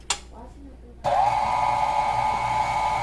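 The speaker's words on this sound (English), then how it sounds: "I just added the vanilla and I pushed on the side, so I probably want to mix it like a minute" Pound cake batter with cream cheese and vanilla being beaten in a bowl by an electric mixer, which whirs on steadily and loudly after a brief pause and a light knock at the start.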